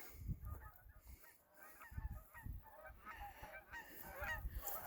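Canada geese honk repeatedly while flying low overhead on a bridge trail hike, a loose series of loud, nasal calls in bursts, fairly close and outdoors.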